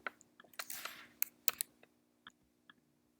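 Close computer keyboard typing during Java programming, a string of sharp, irregular key clicks with short pauses in an otherwise quiet room.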